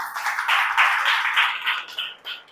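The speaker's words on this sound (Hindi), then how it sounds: "एक जोरदार ताली हो जाए हमारी संस्था के लिए" An audience at a health awareness program claps for the company, a short burst of steady applause that thins out after about two seconds.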